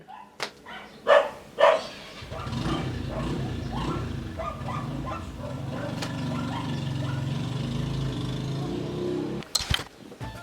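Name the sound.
dog barking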